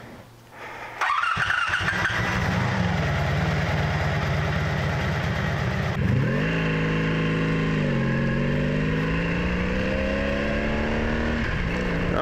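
A motorcycle with a slipping clutch fires up with a short cranking burst, then settles into a steady, loud idle close by, with a few gentle rises in engine pitch partway through.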